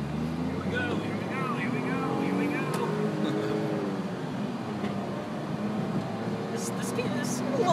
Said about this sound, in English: It sounds like a little hot rod from right here.